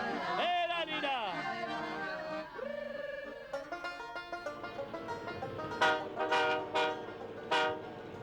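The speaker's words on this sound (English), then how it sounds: "When the snow flies, so does the snow train." A snow train on the Agawa Central line in the wintry Canadian wilderness sounds its horn in long, wavering blasts, followed by rhythmic rolling clatter of railcars and further short horn toots, heard fairly close.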